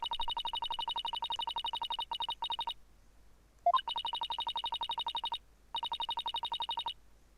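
A rapid, steady electronic bell trill from the Phoenix Wright Ace Attorney game soundtrack, ringing in fast repeated bursts with brief gaps and a short rising chime between them, close and clear with no talk.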